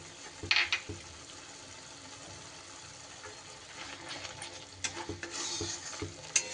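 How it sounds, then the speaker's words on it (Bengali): Ground coriander, cumin and Kashmiri chilli masala with tomato being stirred and fried in a pan for navratan korma, a soft steady sizzle with intermittent scraping and clinks from the spoon, close by. "এবার সুন্দর করে মশলা কিন্তু আমার কষিয়ে নিতে হবে"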